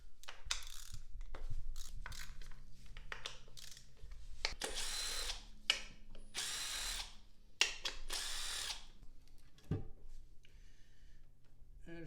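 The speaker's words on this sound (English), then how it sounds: "crack them loose first by hand, and then run them out with an impact" An impact driver runs out 10 millimeter bolts during a catch can install, giving several loud bursts of rapid hammering and whirring, separated by short pauses, clicks and rustling in a garage.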